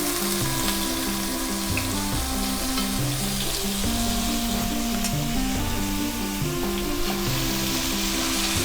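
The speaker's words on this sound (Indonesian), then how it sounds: "Kita tumis dulu sampai dia matang" Carrots stir-frying in a pan for beef croquettes, a steady close sizzle with rhythmic stirring and scraping throughout, no talk.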